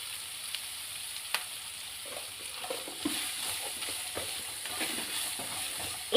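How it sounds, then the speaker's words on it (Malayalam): Food is stirred and sautéed in a pan before turmeric goes in, giving a steady close sizzle broken by repeated scraping stirs, with no talking. "പിന്നെ ഇളക്കി ഫുള്ള് നമുക്കൊന്ന് വഴറ്റിയെടുക്കാവേ"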